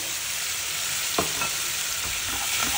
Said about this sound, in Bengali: দিয়ে ভালো করে এটা তেল ছাড়া অবধি কষতে থাকবে